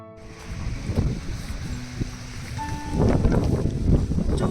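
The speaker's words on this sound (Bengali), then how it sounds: "প্রচন্ড হাওয়া আজকে।" Strong gusting wind at a cherry blossom park in Amstelveen buffets the microphone with broad rushing noise that swells louder toward the end, with no voices over it.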